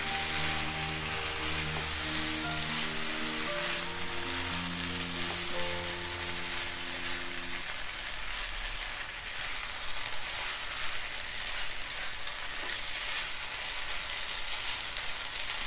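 Leftover rice upma sizzles and fries steadily in a pan while being stirred, a dense crackling hiss running throughout with faint background music tones in the first half.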